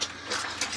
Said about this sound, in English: Side here, I'll also flip this breaker.